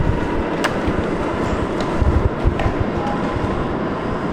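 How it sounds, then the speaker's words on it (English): A train rumbles past nearby in New York City, a broad continuous roar with a rattling low end and a few sharp clanks. "the train's coming"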